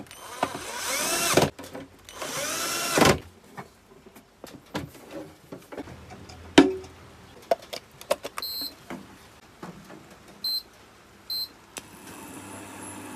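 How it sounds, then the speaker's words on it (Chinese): A power screwdriver drives screws into the casing of an induction cooker during reassembly, giving several short whirring bursts with mechanical clicks and handling knocks in between, close and moderately loud. "先随便固定2个螺丝。"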